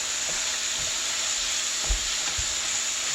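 Meat and onions fry in a pot on the stove, a steady loud sizzle and hiss with occasional soft scrapes and knocks of stirring underneath.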